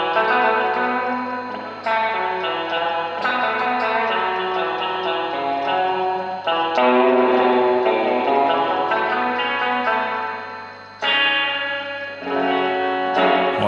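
Electric guitar played through a Fender Pawn Shop Vaporizer amplifier with effects, loud chorded strumming and riffs drenched in chorus, echo and reverb, continuous for several seconds without talk.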